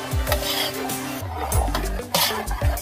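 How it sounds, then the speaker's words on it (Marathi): Ravali sweet mixture stirred in ghee in a pan, a steady scraping and rubbing of the spoon against the metal with soft dull knocks, close up and without talk. "हलवत हलवत आपण घट्ट होईपर्यंत"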